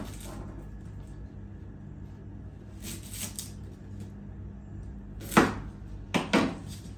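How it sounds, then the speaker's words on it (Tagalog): Onions being sliced with a knife for salmon and shrimp sinigang, a few sharp chopping cuts near the end after a quiet stretch, with faint kitchen noise in between. "i-slicing pa natin yung sibuyas"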